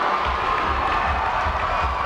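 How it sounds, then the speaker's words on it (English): A packed crowd at a 2000 high school boys' basketball game in a fieldhouse, West vs. Moline in Davenport, Iowa, keeps up a dense, steady roar of cheering and yelling, loud and continuous throughout. "You can hear the crowd in the background."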